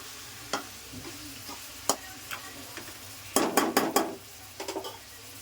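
A spatula stirs brinjal curry in a hot pan, giving soft scrapes and then a quick cluster of loud clattering strokes against the metal over a faint background sizzle.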